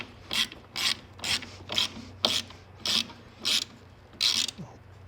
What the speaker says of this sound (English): we're already tightening up nicely on the rack